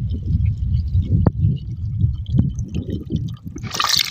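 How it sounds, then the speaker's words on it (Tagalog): Broth poured into a cooking pot, a steady low liquid sloshing and gurgling throughout, with a couple of faint clinks and a brighter splashy burst near the end. "Lagay na natin ang sabaw."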